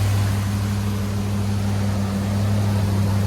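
A big-block V8 with a flat tappet cam idles steadily on an engine run stand, a deep continuous low rumble with a faint ticking hint of a slight exhaust leak, no talking.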